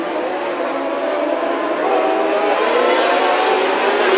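Dwarf cars racing at Antioch Speedway make a continuous high-pitched engine whine with a broad roar, loud and sustained as the pack runs, with no voices.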